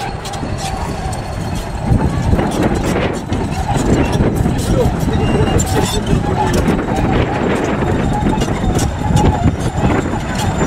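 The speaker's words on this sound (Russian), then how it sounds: "Вот сейчас трактор будет утаптывать все это." A tractor compacts a single layer of freshly laid stones at a building site, its engine chugging loudly and steadily throughout, with a voice talking over it.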